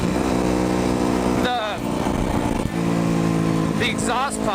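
A motorcycle engine, a KLR 650 or street-legal WR250F with a repaired manifold exhaust pipe, idles and revs with a steady harmonic drone, the pitch rising and falling briefly, while someone talks over it.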